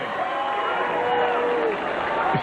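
A large crowd at a 1997 AVP beach volleyball event in Dallas roars in a steady, mixed wash of boos and cheers, sustained and fairly loud throughout.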